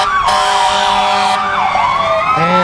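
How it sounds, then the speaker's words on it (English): Pine Hill Fire Department fire trucks rolling through a Christmas parade, several wailing sirens rising and falling together, loud and close, with a blast of horn near the end. "they like those sirens and horns"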